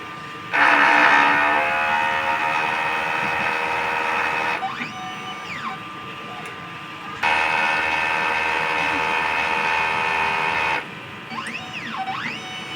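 An inkjet printer runs its print head cleaning cycle: a steady, fairly loud mechanical whir comes in two long runs, with shorter rising and falling tones between them.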